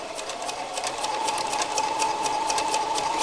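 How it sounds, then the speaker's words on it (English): A sewing machine runs steadily, stitching along the edge of fabric for a half-square triangle quilt block at a fine 12 to 15 stitches per inch, its rapid needle pulses continuous and close throughout. "I'm going to sew on this edge."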